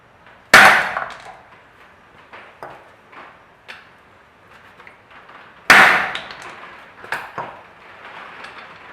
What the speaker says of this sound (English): Now we've got to hammer the U-joint out.